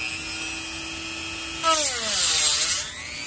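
A fiberglass cutting wheel biting into an old DVD-ROM drive: a steady tonal whine, then a loud, close burst of grinding with a pitch that dips and rises before easing back to the whine.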